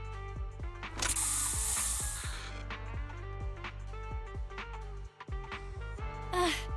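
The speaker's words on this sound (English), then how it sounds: "Here, have a taste of this special Bangboo spray!" A short, loud hissing spray burst from a special Bangboo spray in the Zenless Zone Zero video game, set against game music and scattered mechanical effects.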